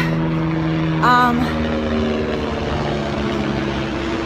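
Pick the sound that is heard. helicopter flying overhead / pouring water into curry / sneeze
helicopter flying overhead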